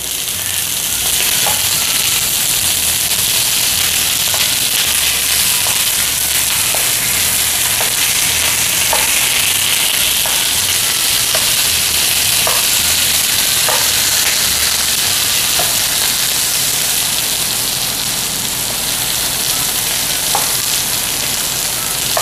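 Takoyaki batter sizzling steadily in a hot takoyaki pan, a loud, continuous close hiss with faint occasional ticks and pops throughout.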